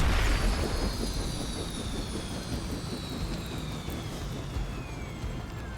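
Aircraft roar from a helicopter in the video game Marvel's Midnight Suns, a loud, steady broadband engine drone with descending whine tones sweeping across the sound, continuous for several seconds with no talk.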